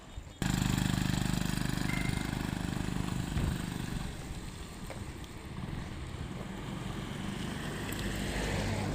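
A TVS XL100 moped engine drones steadily while pulling a loaded trailer trolley, a continuous low rumble that starts abruptly and holds at a fairly even level, with wind buffeting the microphone.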